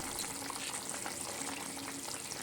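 Fried hilsa fish simmers in curry gravy with a soft, steady bubbling hiss, quiet and continuous, ending with a small knock.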